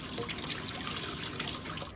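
Cold tap water runs steadily over boiled spinach to rinse and drain it, a dense close splashing rush that continues without a break and cuts off abruptly at the end.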